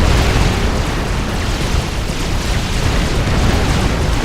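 Fire beetle units blowing up in a real-time strategy game, a dense, continuous roar of explosions and rumbling booms that fills the whole stretch at high volume, with no talking.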